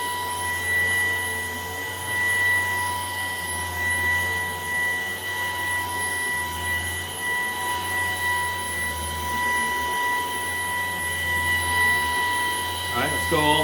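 A Maircle S3 Pro vacuum cleaner runs on its medium setting over a fabric dog bed, giving a steady, loud whine with a low motor hum throughout, shifting slightly as the nozzle moves.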